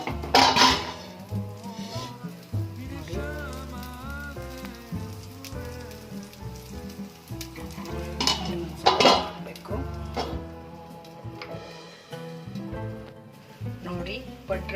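Utensil clinks against a paddu pan while the paddu are turned, a few sharp metallic clinks over a steady sizzle, with someone talking throughout.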